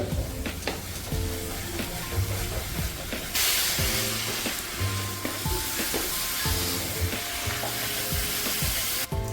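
Kerala-style spicy chicken roast sizzles and hisses in a pan on a high flame while being stirred, with scraping strokes and a louder burst of steam midway, over background music.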